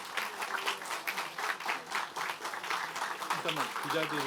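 Applause from lawmakers at a People Power Party caucus meeting during a photo session, a sustained wash of many hands clapping, moderately distant, with voices talking over it.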